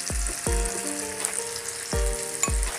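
Surmai fish slices shallow-fry in oil in a pan, giving a steady close sizzle broken by a few dull knocks and bumps from the pan.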